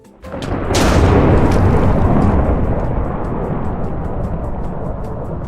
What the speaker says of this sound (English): Speaking of nuclear grenades, here's a nuclear grenade.